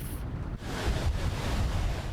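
Heavy ocean surf crashing at Laguna Beach during worsening storm conditions, a continuous loud roar of breaking waves mixed with wind buffeting the microphone, no voices.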